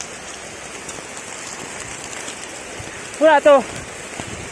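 Heavy rain falls outdoors at a lake, a steady dense hiss of drops throughout, with a brief spoken remark near the end.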